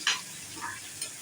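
Mustard seeds and cumin crackle and sizzle in hot oil during tempering, with a few quick spitting bursts over a low frying hiss, fairly quiet and close.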